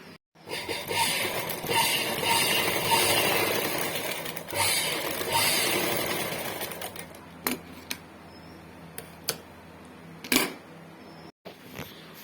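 Blouse being stitched on a sewing machine, a steady mechanical whir running for about seven seconds, then stopping, followed by a few sharp clicks and knocks of handling.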